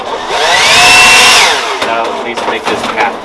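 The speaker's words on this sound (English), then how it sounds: "we'll call that the leaf blower pass" Loud whooshing motor whine of a leaf blower makes a pass along a house foundation, swelling up close and then fading, with rattling clatter afterward.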